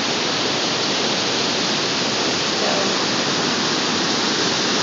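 Snowmelt water pours down from the mountains over lava rocks, a loud, steady, broadband rush like a waterfall that never lets up, with a single brief spoken word over it.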